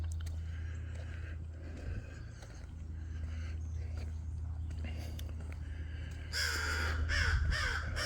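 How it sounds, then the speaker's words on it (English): Crows caw in a Florida backyard, several harsh calls ringing out at a moderate distance over a low background hum, with a louder burst of cawing near the end. "Yes, we have crows"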